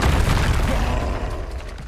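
A Confringo blasting spell goes off in Hogwarts Legacy, a sustained booming explosion with a heavy low rumble that holds loud through the moment and eases slightly toward the end, with no voices over it.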